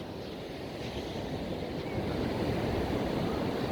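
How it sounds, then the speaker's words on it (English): Waves come down on a shore at night in a steady, loud rush of surf, with wind buffeting the microphone throughout and the wash swelling slightly toward the end. "Look, waves coming down."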